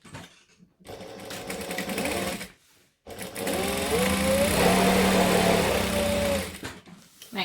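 A sewing machine stitches in short bursts along the bottom of a bag, with two quick runs, a pause, then a longer steady whirring run with rising motor pitch before it stops.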